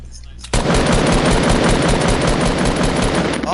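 Rapid, sustained automatic gunfire in a video game, loud and close, starting suddenly after a brief quiet and running without a break to the end.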